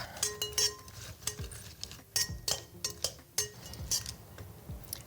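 Tongs stirring capers in a pan, giving a steady run of light metallic clinks and taps at an irregular rhythm, close and fairly quiet, with no talking.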